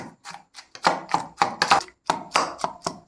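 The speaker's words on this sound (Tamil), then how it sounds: "கொத்தமல்லின்ட்டேன் புதினா போட்டு நல்லா இடிச்சு விட்டுலாம்." Coriander and mint leaves are pounded for a watermelon mojito, a series of about ten close, sharp thuds in an uneven rhythm with brief pauses between strikes.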